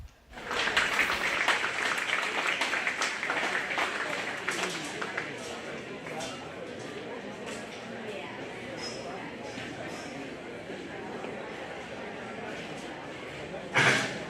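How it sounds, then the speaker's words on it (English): A crowd applauds a young heifer exhibitor in the show ring at the Greene County Fair. The clapping is strongest at first, then tapers into a lighter patter, with a brief louder burst near the end and voices talking underneath. "So if you would give her a round of applause"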